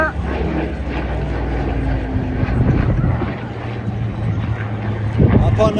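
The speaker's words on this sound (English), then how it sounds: "It's of course the Spitfire." A Supermarine Spitfire flies at the Cosford airshow, giving a steady propeller engine drone that swells and fades over wind-buffeted crowd noise, with people talking nearby.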